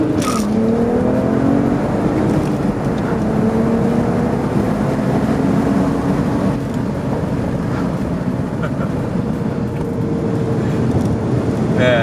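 A stock BMW 335i with the N54 engine and six-speed manual pulls hard in first gear from about 4,000 rpm, a loud, continuous engine roar with rising tones heard from inside the car.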